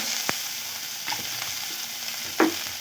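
Chopped tomatoes and salt frying in a pan for a whole-onion curry, a soft steady sizzle with a few sharp utensil clicks and scrapes, no speech.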